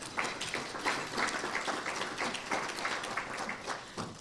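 Audience applause at an engineering society's monthly meeting, a steady wash of clapping from a room of people running the full length at moderate loudness, with no words spoken over it.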